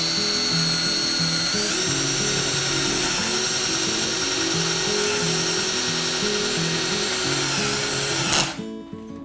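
Power drill boring holes in wooden dowels for a tomato garden A-frame, a continuous high whine with the motor pitch stepping slightly as the bit bites, running loud and close before abruptly cutting off near the end.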